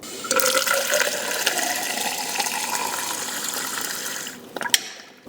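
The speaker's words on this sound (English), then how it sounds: "let's go ahead and pour some over the wheel. Yeah, water just rolls right off of it." Water pours steadily and splashes over a car wheel coated with graphene ceramic spray for several seconds, then tapers off with a few last drips and splashes.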